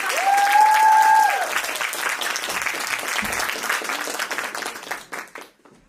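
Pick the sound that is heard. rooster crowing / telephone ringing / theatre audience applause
theatre audience applause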